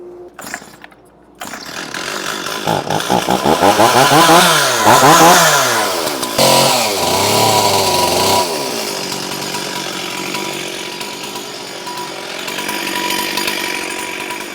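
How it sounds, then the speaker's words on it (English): A chainsaw starts up and roars loudly, revving up and down as it bites into a spalted hickory log, then settles into a steady nearby drone. "shave a little bit of that off with the chainsaw"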